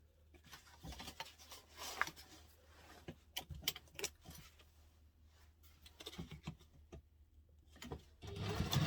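A sewing machine runs a construction-length stitch while a bowler bag is being sewn, giving quiet, irregular clattering bursts and ticks that speed up and thicken toward the end.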